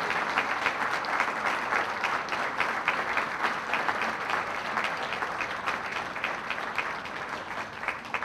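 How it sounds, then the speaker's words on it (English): Steady, dense applause from a large crowd, many hands clapping continuously at an even level throughout. "one big round of applause"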